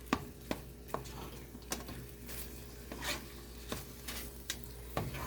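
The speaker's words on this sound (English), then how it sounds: "We're going to be mixing that in over medium heat until it melts." Velveeta cheese being stirred into macaroni over medium heat, a quiet background broken by repeated sharp scrapes and knocks of a spoon against the pot at irregular intervals, with no talking.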